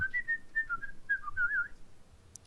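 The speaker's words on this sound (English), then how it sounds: "It's whistling." A thin, wavering whistle comes from a camera, holding a steady high pitch that wobbles up and down for under two seconds and then fades into quiet room noise.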